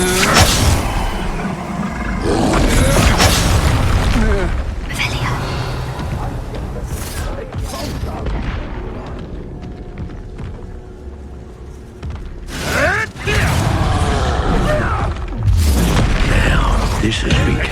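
Explosive spellcasting in the video game Hogwarts Legacy, with Expulso blasts as heavy booms and rumbling impacts throughout a loud combat scene, mixed with game voices and effects.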